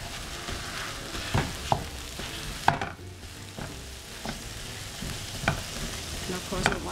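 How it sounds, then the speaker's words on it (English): Meat browning in a pan and being stirred around, a constant sizzle with repeated spatula scrapes and knocks against the pan at an irregular pace, close and fairly loud. "I can now add the meat and keep stirring it around."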